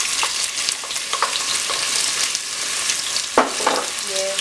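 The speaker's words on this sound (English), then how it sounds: "I'm just going to saute my onions" Onions sauté in hot oil in a pot for groundnut soup, a dense continuous sizzle and crackle with scattered stirring knocks, close and fairly loud.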